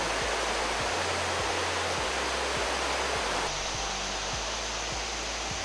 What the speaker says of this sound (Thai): น้ำไหลแรงนะคะเนี่ย ไม่แน่ใจว่าเป็นเส้นลำตะคองหรือเปล่า